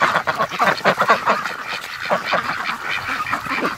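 A group of Muscovy ducks by a freshly filled water tub in a snowy pen, making a busy stream of close, loud honks and quacks.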